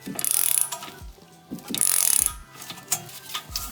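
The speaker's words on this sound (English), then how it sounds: "So you're gonna hold your wrench still and twist your ratchet." A ratchet wrench turns a large bolt while adjustable control arms are fitted to a 2022 Honda Civic Si, giving two close, loud runs of rapid clicking with quieter single clicks and scrapes in between.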